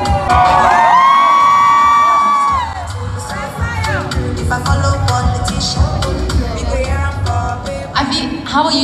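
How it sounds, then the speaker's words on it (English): A crowd cheers, whoops and applauds loudly at a YouTube Africa creator day event, with a sustained shrill whistle-like yell early on and continuous energetic shouting throughout. "give a warm, energetic round of applause for Taoma and Double D's twins"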